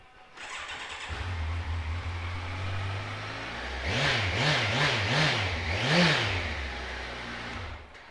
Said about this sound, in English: we'll give it a quick start up so you can hear the motor running